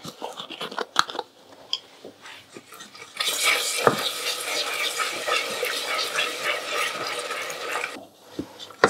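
Cream poured into hot homemade caramel in a pan, setting off a sustained loud bubbling sizzle after scattered clinks and taps, then settling back to quiet stirring sounds near the end.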